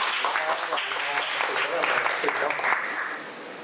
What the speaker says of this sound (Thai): ขอเสียงปรบมือให้กับพี่บอยอีกครั้ งหนึ่งค่ะ